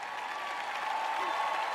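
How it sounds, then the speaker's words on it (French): Applause from a church audience at a sermon, a brief, faint and fairly subdued patter of clapping heard at a distance. "Vous n'applaudissez pas très fort."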